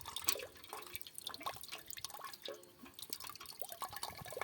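Water poured from a bucket onto garden soil, splashing and dripping in uneven bursts close by with no talking.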